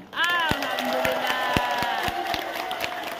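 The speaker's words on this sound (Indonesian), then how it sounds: "Tepuk tangan." A packed mosque crowd at an Islamic religious gathering bursts into applause and cheering, with sharp claps, whoops and shouting voices rising at once and staying loud and close throughout.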